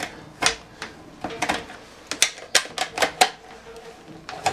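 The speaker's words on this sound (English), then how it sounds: "to securely fasten it, we use again the wrench." A metal wrench tightens a plastic fitting on an RO water purifier, giving sharp close clicks and ratcheting taps in irregular clusters, with no talking.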